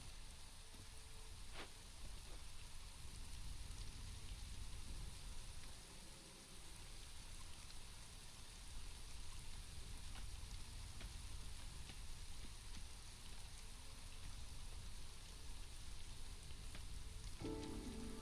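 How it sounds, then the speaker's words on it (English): Steady rain falls in the video game Against the Storm, a continuous hiss of drops on surfaces with low rumbling underneath, moderately loud and unbroken, with no talking. "Occasionally a second drizzle."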